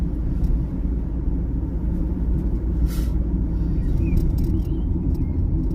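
Steady low engine rumble from a car driving along a one-way road system, a constant droning hum held throughout with no talking.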